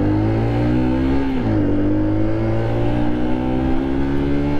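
A car engine revs steadily and loud as the driver sets off without using the clutch, the pitch dipping briefly before climbing again, close and continuous with no talking.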